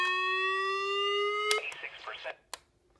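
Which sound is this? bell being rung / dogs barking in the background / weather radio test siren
weather radio test siren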